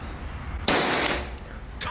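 A powder-actuated nail gun fires a blank with one sharp, close bang, followed by a brief fading rattle and a second smaller impact.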